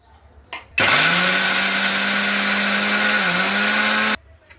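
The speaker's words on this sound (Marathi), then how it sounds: "आता आपण ही डाळ मिक्सरच्या भांड्यामध्ये जाडसर वाटून घेणार आहोत" An electric mixer grinder coarsely grinding soaked, drained chana dal, starting abruptly with a loud steady whirring drone that runs about three and a half seconds with a slight dip near the end, then cuts off.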